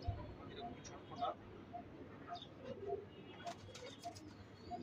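Pigeons cooing softly from a loft or sale pen, low repeated coos scattered through the clip with a few faint chirps, quiet and slightly distant, with someone talking over them.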